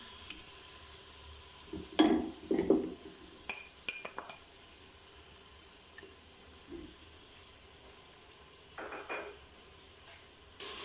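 Beef frying with ginger garlic paste in hot oil, a soft steady sizzle broken by scraping, clattering stirs of a spoon against the pot, some sharper knocks near the start and end, no talking.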